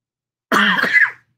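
A single short cough merging into a throat clear, close and fairly loud, lasting under a second and followed by silence.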